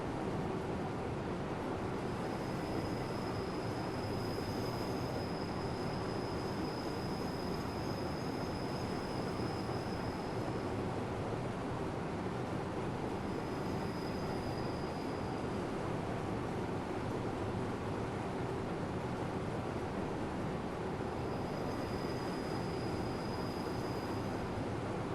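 A Rhaetian Railway train in a train simulator game runs along the Albula Line from Thusis toward St. Moritz with a continuous rumble and clatter, broken by recurring high wheel squeals, with no voices.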